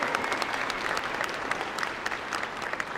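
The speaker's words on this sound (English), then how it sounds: "Let's give them one more round of applause." Continuous round of applause from a large audience at a county luncheon honoring the cheerleaders, dense and even, moderately distant and quieter than the room's speech level.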